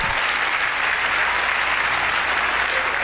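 A TV studio audience on a 1990 country music variety show claps steadily for about three seconds, a dense and even wash of applause with no voices over it.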